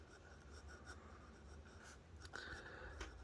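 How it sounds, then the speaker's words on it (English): Parker Vacumatic fountain pen, made in Germany, scratching softly across paper in close, faint continuous strokes with a few brief louder scrapes, alone with no talk. "And now let me write."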